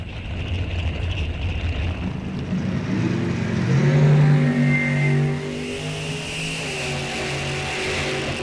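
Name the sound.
Corvette and Firebird drag racing down the strip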